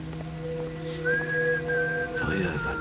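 Whistling by a character in the stealth video game Thief, a faint thin tune over a low droning game ambience with no talk.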